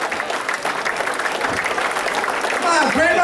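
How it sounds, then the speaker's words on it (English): Audience applause rings out at a comedy show, a dense steady wash of clapping from the crowd that swells slightly near the end, with a voice talking over the tail. "great round of applause for Jason and his crew"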